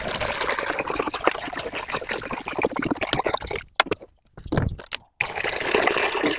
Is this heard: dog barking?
no